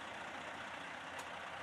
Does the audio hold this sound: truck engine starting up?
yes